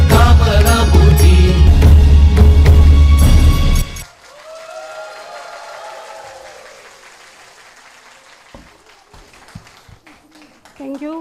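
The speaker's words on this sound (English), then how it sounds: "Your claps encourages the children." Audience applause after a children's Bharatanatyam dance at an annual event, loud and dense for about four seconds before stopping abruptly, with quieter talk over the hall afterwards.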